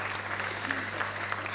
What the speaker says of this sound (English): Ladies and gentlemen, please put your hands together for the editorial director, NDTV, Ms. Sonia Singh